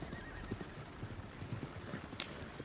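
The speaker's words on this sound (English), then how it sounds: "Wild horses." Wild horses in the WildRP game world neigh and whinny amid a steady patter of clip-clopping hooves, moderately close and continuous, with a sharp whinny standing out near the end.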